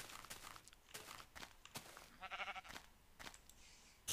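Faint bleating from a sheep in Minecraft, a short wavering bleat amid soft clicks and footsteps.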